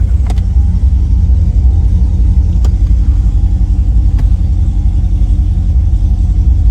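LSA-supercharged Pontiac G8 driving, a loud, steady low engine rumble and road drone filling the cabin throughout, with a few faint clicks and no talk.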